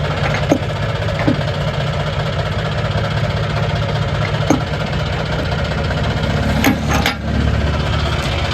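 A tractor engine idles steadily at night while hitched up to tow a second tractor, a continuous low rumble with a few brief knocks and clanks over it.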